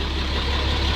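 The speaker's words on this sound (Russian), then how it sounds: "Но мотор шепчет" Vintage MAN truck engine, restored and in very good condition, idling steadily at a retro truck, bus and tractor show, a close, even low rumble with no talk.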